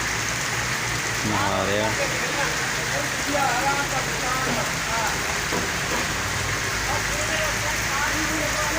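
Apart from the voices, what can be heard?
heavy rain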